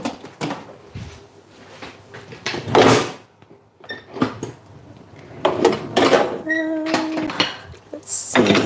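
Kitchen utensils and cookware clatter and clink as someone rummages through a drawer for a spatula, with irregular bursts of knocking and scraping near the mic and a short voice in between.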